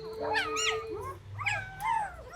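Three-day-old German Shepherd puppies whimper close by in a string of high, wavering cries and thin yips that rise and fall over a couple of seconds.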